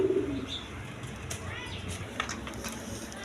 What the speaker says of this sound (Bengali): এখানে 3 পিস মাদি কবুতর আছে